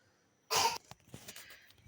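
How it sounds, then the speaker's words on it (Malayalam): A child's single sharp cough bursts out close by, followed by a few softer breathy sounds in an otherwise quiet room. "ഈ ചുമ എന്ന് പറഞ്ഞ സാധനം ഇങ്ങനെ വിട്ടു മാറില്ല"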